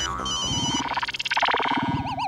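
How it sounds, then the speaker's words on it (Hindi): A phone ringtone plays loudly as a melodic electronic tune with warbling tones, repeating over a busy mix of overlapping sounds in a comedic home scene. "प्लीज मेरा फोन है मत उठाना।"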